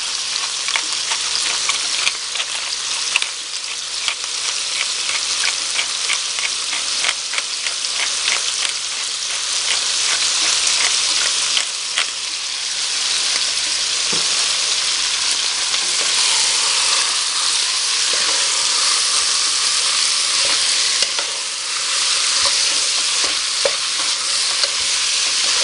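Pork sizzles and fries in a pan while being stirred for Hmong steamed rice rolls, a steady bright crackle running throughout with frequent scraping stirs and small utensil clicks, close and loud, with no one speaking.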